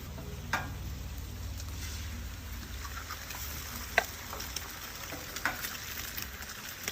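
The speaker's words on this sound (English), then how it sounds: "we're gonna cook some eggs over here" Eggs frying in a skillet, a steady close sizzle with scattered small pops and ticks throughout, no voices.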